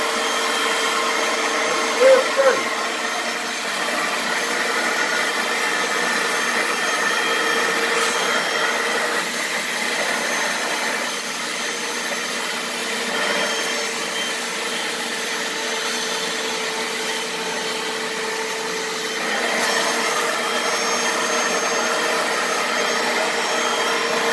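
A vacuum cleaner sucks up dirt inside a 1997 Silverado pickup's cab, its loud steady whine running unbroken throughout with slight shifts in pitch as the nozzle moves.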